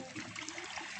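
Strong water rushing steadily at a rural water source in Tagkawayan, Quezon, a dense continuous hiss and gurgle, close and fairly faint, with no voices.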